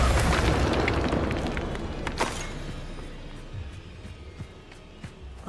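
A Bombarda spell explosion in Hogwarts Legacy: one heavy, close boom that hits at once and rumbles away over several seconds, fading into faint crackling debris.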